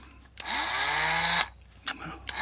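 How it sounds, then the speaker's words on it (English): A drill whines through a metal part for a 2MT model in a home workshop, running steadily for about a second with a sliding pitch, then stopping, followed by a few short clicks and taps. "I'm going to drill."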